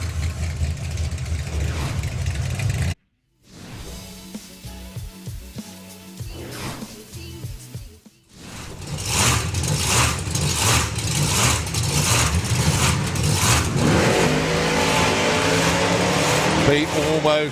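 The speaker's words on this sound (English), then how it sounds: "Andy doesn't need to do monstrous burnouts, just as a little one to haze the tyres" A hot rod at a drag strip spins its tyres in a small burnout before pulling up to the start line. A loud, continuous engine roar with a brief dropout, then rising again under commentary.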